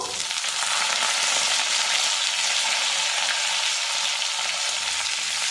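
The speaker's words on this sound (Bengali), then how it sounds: "রসুনটা ভাজা ভাজা করে নেব" Chopped garlic frying in a pan, steady close sizzling with occasional stirring, no voices over it.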